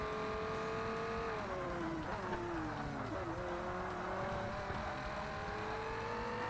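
A race car engine in the video game Forza Motorsport revs high and shifts pitch, downshifting and climbing again in a continuous synthetic-sounding whine.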